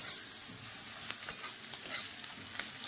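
Onion, garlic, dried red chilies and cumin fry in a pan with a steady close sizzle, broken by a few sharp scraping stirs.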